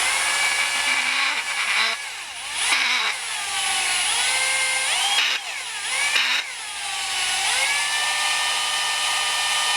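A lapping mandrel spins and chatters inside an AR upper receiver, giving a loud, steady, high-pitched whine from a power tool that runs throughout with a few brief dips and pitch shifts.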